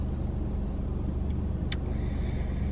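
A car engine idles and rumbles steadily while the car creeps forward into a parking spot, close and continuous, with a brief high click partway through and no talk.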